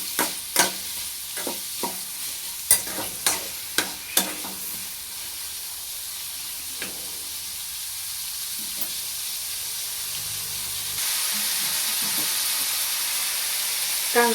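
Onions being stir-fried in a pan until reddish, a continuous sizzle with several sharp spatula scrapes and taps early on, the hiss growing louder toward the end.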